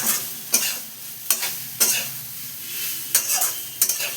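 Okra being stirred and fried in a pan with salt makes a soft sizzle broken by sharp spatula scrapes against the pan, about six distinct strokes at an irregular pace, close by with no talking.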